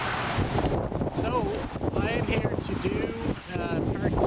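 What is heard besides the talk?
wind blowing outdoors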